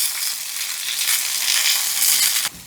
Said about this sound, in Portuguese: Vamos refogar a cebola.